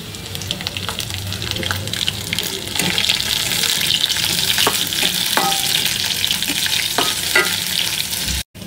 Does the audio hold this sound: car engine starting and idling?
no